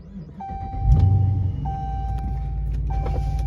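A Chrysler 300 with a 5.7 HEMI V8 rumbles low and close as it pulls away, with a brief engine swell followed by a steady idle-like drone and repeated electronic chimes.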